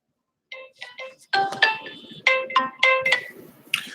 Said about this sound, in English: That was a sound of a scam trying to call me.